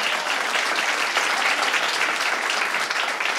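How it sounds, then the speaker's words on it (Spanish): Dense, loud audience applause at a stand-up comedy show, a steady wash of many hands clapping together, with no voices standing out. "Un aplauso para ustedes."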